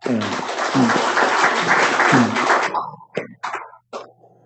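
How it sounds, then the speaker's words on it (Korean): Church congregation applauding to welcome two returning members, a dense burst of clapping for a few seconds that breaks into scattered claps, with a voice briefly over the start. "저 두 사람 돌아온 두 사람을 위해서 우리 환영의 박수 한번"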